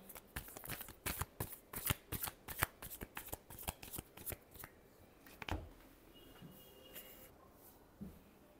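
Tarot cards being shuffled close up, a rapid run of crisp riffling slaps for about five seconds, then a few quieter handling taps and card sounds, with no talking.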